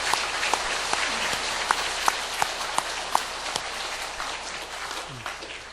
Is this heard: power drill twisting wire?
no